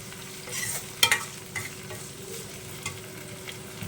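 Curry leaves frying in oil in a pan for a fish curry, a soft, steady sizzle with a few sharp crackles and utensil clicks near the start, fairly quiet and close.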